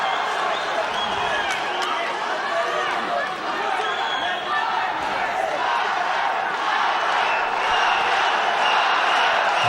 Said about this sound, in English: Crowd chanting out Balayev's name